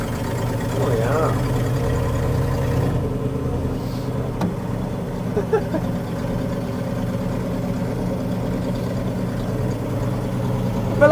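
A C60 Viking truck, brought back to running after 40 years, rumbles with a steady low engine drone that swells as it is given gas, with people talking over it throughout.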